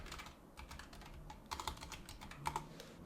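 Page name being typed on a computer keyboard, a steady run of light, quick key clicks in short bursts, close and clear over a quiet room background.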